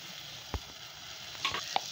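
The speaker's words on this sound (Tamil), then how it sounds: "நான் கட் பண்ணி வச்ச உருளைக்கிழங்கையும் இந்த தக்காளியோ மசாலாவோடு சேர்த்துட்டேன்." Cut potatoes stirred into a tomato masala in a pan, giving a soft steady sizzle with a few scraping clinks of a spoon near the end, fairly quiet and with no talking.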